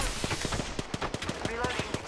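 Rapid gunfire in the battle royale shooter Apex Legends crackles in a quick, steady volley of shots, loud and close, packed densely into a couple of seconds.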